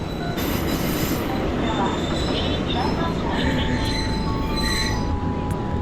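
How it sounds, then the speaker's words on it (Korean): A train rolls in with heavy, steady rumbling and high metallic wheel squeals, loud and close, with faint voices underneath. "이번에 고양이 열차인데?"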